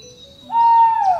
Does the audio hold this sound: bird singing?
yes